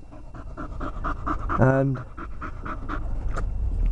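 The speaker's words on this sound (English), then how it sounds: "Watch, he's getting stuck into his food." A dog pants quickly and steadily while eating raw meat, the panting close and strong, with a person talking over it and a brief rising whine partway through.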